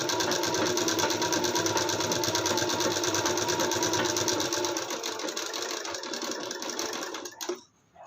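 A sewing machine runs steadily for about seven seconds, stitching an embroidered blouse, then stops abruptly, leaving quiet handling noise.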